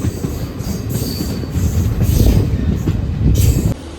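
A Karur–Salem DEMU express train rumbles steadily past with a dense low roar and rhythmic wheel clatter, loud and close, with no voices.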